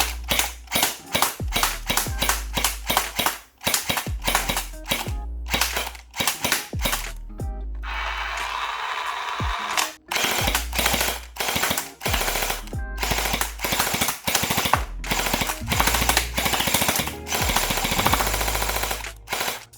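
A LEHUI MP9 electric gel ball blaster firing outdoors in long rapid bursts of sharp, close cracks, broken by a few short pauses, loud and without talk.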